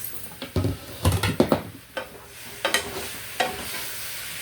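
Food sizzles in a pan while a utensil scrapes and stirs, producing irregular clattering strokes over a soft, steady frying hiss.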